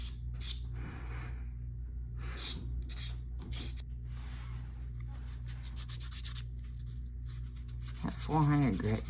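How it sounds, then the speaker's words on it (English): Fine 400-grit sandpaper rubbed and polished over a small tail-spinner lure part, giving repeated close scratchy strokes in short bursts over a steady low hum, with a brief louder scrape near the end. "That 400 grit does a lot better a job than I remember. That really polishes that nicely."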